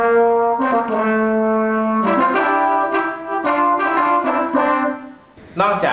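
Trombone patch on a keyboard, played with trombonist phrasing: a run of sustained brassy notes with smooth slides between pitches and swelling dynamics, close and clear, ending with a brief brighter burst.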